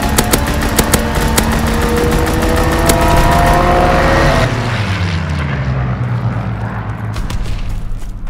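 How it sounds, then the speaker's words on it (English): In Call of Duty WW2 multiplayer on the Ardennes Forest or Sainte Marie du Mont maps, a loud fighter aircraft engine roars overhead, pitch sweeping downward as it passes, mixed with rapid gunfire bursts and battle noise. "Fighter aircraft approaching target."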